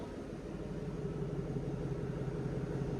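A 2024 Chevy Silverado RST 5.3L V8 with a Borla Atak muffler idles with a steady, low, even burble, fairly quiet and unchanging throughout.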